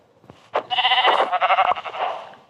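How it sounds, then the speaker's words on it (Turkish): Sheep in a video game bleats in a loud, wavering call lasting about two seconds, alone and close, preceded by a couple of faint knocks. "Ha koyun."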